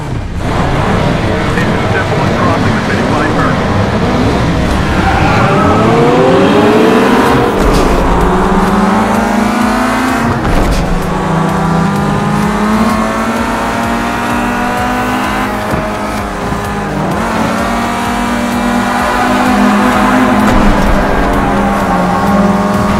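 Volkswagen CC racing in GT Racing 2, a steady loud engine drone with rising and falling revs as gears shift, continuous throughout, with a voice talking over parts of it.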